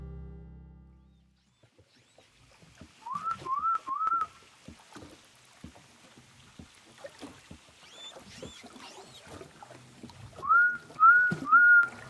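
Orca whistles recorded underwater in clear, quiet water: two sets of three short rising whistles, faint and distant, with scattered clicks and soft background noise.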